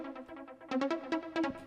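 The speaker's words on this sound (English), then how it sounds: "a serum, which has a basic pluck sound." A basic pluck preset from the Serum synthesizer plays a short melodic phrase of bright, quickly decaying plucked notes, quiet at first and then a louder run of repeated plucks, with no voices.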